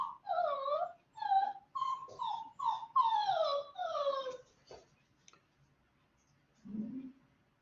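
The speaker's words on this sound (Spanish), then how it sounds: "Está mañoso mi perrito" A small pet dog whimpers indoors in a series of short, high, whining cries at the start, followed by quiet and then one low, brief grunt.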